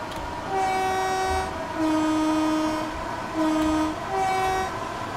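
A Class 465 electric train in Train Sim World 3 sounds its two-tone horn in four alternating high and low blasts over a steady mechanical hum, loud and close, with no talk.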